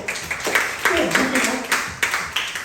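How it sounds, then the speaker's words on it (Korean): An audience clapping in rhythm at a church youth retreat sermon, a series of sharp, evenly spaced claps ringing out in a large room beneath a speaking voice. "박수 한번 쳐주세요"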